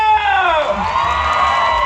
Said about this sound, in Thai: มูสองมูสองขอเสียงกองเชียร์ป่าสุรีหนะนะ